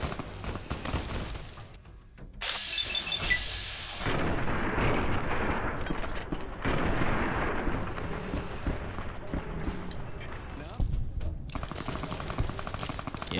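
Fallout: New Vegas combat brings dense gunfire, with rapid automatic bursts and heavy booming shots that overlap and surge, briefly dropping away before resuming loudly.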